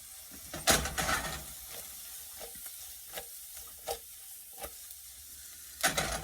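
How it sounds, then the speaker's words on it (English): Fried rice ingredients and onions are stirred in a hot pan, with a gentle frying sizzle broken by a few sharp scraping strokes of a spatula. "let this saute"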